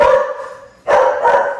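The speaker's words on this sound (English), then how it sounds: "that's our dog, Pepper" A pet dog barking at home while a Thanksgiving dinner is being prepared: two loud, close barks separated by a short pause, with no other sound around them.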